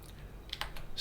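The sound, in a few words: typing a terminal command on a computer keyboard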